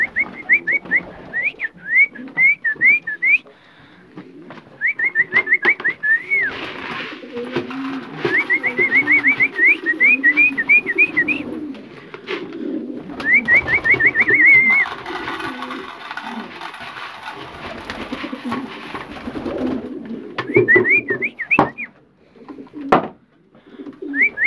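Pigeons coo and call repeatedly at close range in a loft where rings have been fitted and the birds vaccinated, with rustling, wing movement and handling noises between the repeated coos.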